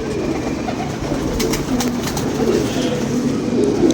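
Pigeons coo repeatedly in low, soft bursts over steady outdoor background noise, close by and continuous throughout.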